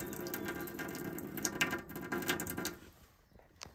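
A camper tap with a Fiamma expansion vessel fitted, pump no longer audible, runs a steady water jet, splashing continuously for about three seconds into a sink before the flow stops and faint drips remain.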